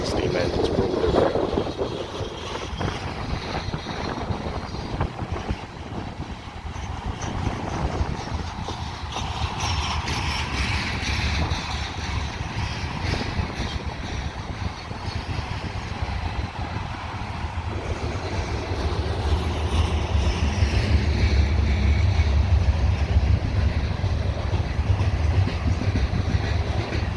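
A coal freight train rolls past on the B&O Old Mainline at Mt Airy, Maryland, a continuous heavy rumble and rail clatter growing louder toward the end, with people talking over it.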